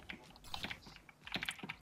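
Rapid, irregular clicking of keys on a PC computer keyboard during an Overwatch gaming session, heard close up in short bursts of fairly quiet taps.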